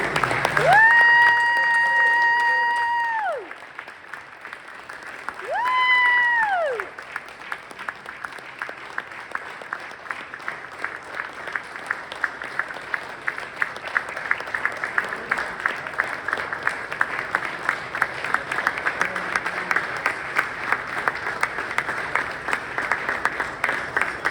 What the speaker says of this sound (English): I'd like to all to give a round of applause for Deuce